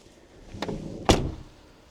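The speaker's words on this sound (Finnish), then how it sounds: "Lukot toimii kyllä hyvin ja siis ovet." Car doors on a cheap used combustion-engine car with pressed sheet-metal hinges being worked, two sharp mechanical clunks of a latch or lock and a door shutting, close and fairly loud, with no talking.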